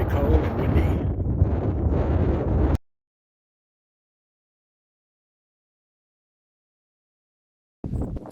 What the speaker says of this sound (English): It is very, very cold and windy.